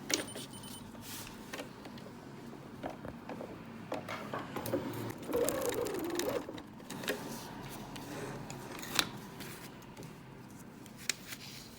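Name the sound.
sewing machine stitching fabric pieces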